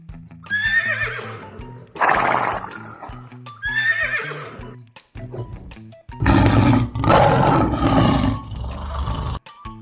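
Horse whinnies and hoof clip-clops come first, then a deep, loud lion roar sounds in several long, heavy bursts before cutting off.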